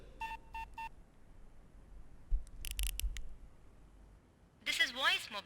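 Phone keypad tones punch in a voicemail access code. A few short beeps come at the start, followed by a scattered burst of clicks and then a warbling electronic tone near the end. The sound is fairly close.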